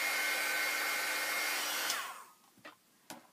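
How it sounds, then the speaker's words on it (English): A hair dryer blows loud and steady on a painted hot glue embellishment, then switches off, leaving a few soft handling knocks. "Dry it up a bit without going overboard and melting my hot glue."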